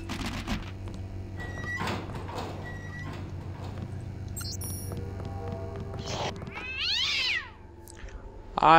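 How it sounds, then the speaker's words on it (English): A cat in the Deus Ex video game gives a short, rising meow near the end, heard faintly over a steady low mechanical hum and distant game ambience. "Cat just happened to find its death under my foot."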